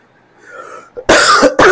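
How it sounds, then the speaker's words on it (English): A man fights off a cough: a soft throat clearing, then two loud, close, harsh coughs in quick succession, with no talking. "Fighting off a bit of a cough."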